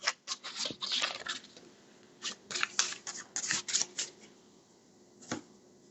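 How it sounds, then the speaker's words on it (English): Playing cards from the Terminator Genisys: Rise of the Resistance board game being shuffled back into the deck, with several quick papery riffling bursts and a final soft snap, close and fairly quiet, no talking. "We're going to shuffle these back into the deck."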